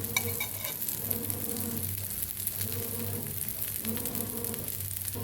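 Potato bhaji and dosa frying crisp in hot oil, a steady loud sizzle with crackling bursts and a low hum underneath, continuous throughout with no talking.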